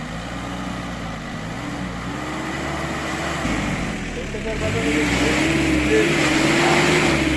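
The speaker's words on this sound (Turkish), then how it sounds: "Evet arkadaşlar arabamız şu an çamura gömüldü. Kurtarma çalışması var." A car stuck in mud during a rescue attempt runs its engine steadily at close range, idling and then revving harder as the pitch rises and falls, while people talk nearby.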